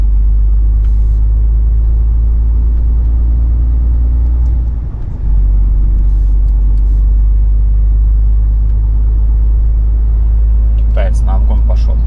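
Steady low engine drone and road rumble heard from inside a moving car as it pulls out to overtake, with a brief dip in the drone midway and light ticking near the end.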